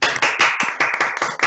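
Participants on a video call clap through their opened microphones after a talk on Midrash and psychoanalysis, a loud, steady run of overlapping handclaps with no voices.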